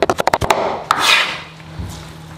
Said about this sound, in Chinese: 把沥干水的粉条把它剁一下